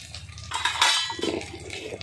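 Water is poured into a pot of thin pabda fish curry with potato and aubergine, giving a short splashing, gurgling burst that swells in the middle and fades, fairly quiet and close.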